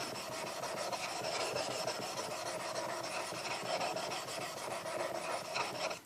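A steel chisel is rubbed back and forth on a Norton sharpening stone in a steady, continuous rasping rhythm of push-and-pull strokes, close and fairly loud, with no talking.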